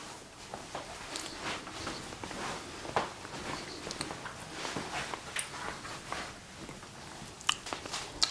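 Garlic toast being bitten and chewed during a taste test, soft crunchy bites and chewing noises recurring close by over a low background.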